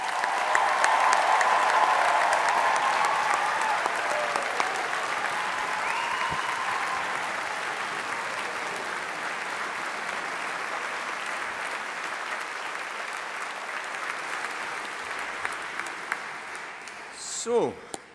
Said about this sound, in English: Let's give the class of 2025 a big round of applause.